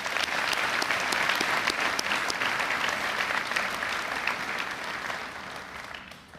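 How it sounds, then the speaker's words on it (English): Sustained audience applause fills a high school graduation ceremony, a dense crowd of clapping that stays strong, then slowly thins and fades toward the end. "Can we have a round of applause,"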